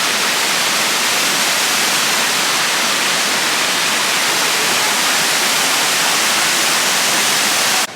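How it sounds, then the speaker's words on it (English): A waterfall in a tropical garden near Hilo, Hawaii, pours as a loud, steady broadband roar that fills the whole scene without a break, with no voices over it. "And here's the waterfall, obviously."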